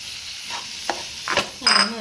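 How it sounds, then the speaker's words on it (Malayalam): Soya chunks coated in masala sizzle in a pan as they are stirred, with a few scraping strokes and a brief metallic clink against the pan over a soft frying hiss. "നല്ലോണം ഇളക്കി കൊടുക്കാം സോയാബീൻ ഈ മസാലയെല്ലാം നല്ല പിടിക്കുന്ന രീതിയിൽ ഇളക്കി കൊടുക്കുക"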